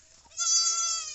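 A goat gives one loud nasal bleat, close by, rising out of quiet background hum and lasting under a second.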